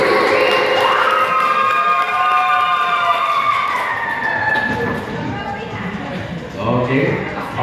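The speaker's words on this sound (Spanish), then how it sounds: "un aplauso para Mickey Mouse" A crowd cheers and claps for a contestant at a 2015 costume contest, a loud sustained burst with shouting voices mixed in, fading slightly toward the end as people keep talking.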